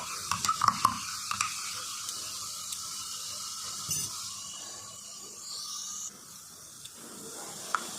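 Homemade ENO fruit-salt mixture fizzing and bubbling in a glass of water, a soft steady hiss with a few tiny crackling pops near the start, faint and close, with no one talking.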